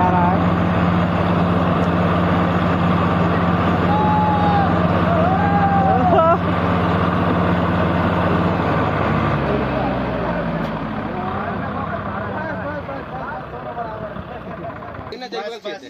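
Swaraj 744 FE and Kubota MU 4501 tractors strain against each other in a tochan pulling competition, engines droning loud and steady before the load eases, with a crowd talking and shouting over the noise.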